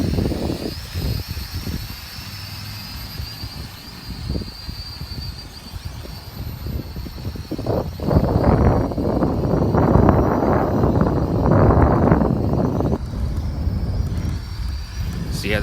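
A Holy Stone X400 quadcopter drone flying in gusty wind, with a steady high whine of its motors over heavy rumbling wind buffeting the microphone, the roar swelling louder in the second half.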